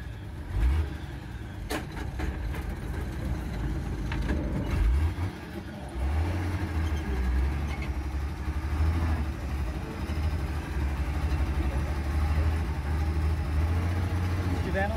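A Chevrolet D60 truck engine rumbles at idle, then revs up and settles back, its low steady drone broken by a brief dip and a rising surge, with clicks and handling noises nearby.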